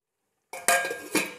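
A metal lid is set onto a pot of boiling water holding cauliflower for pepper fry, giving two or three close clattering clinks over about a second, with no voices.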